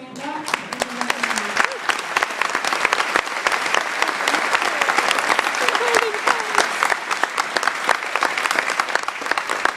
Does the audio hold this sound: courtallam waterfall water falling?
no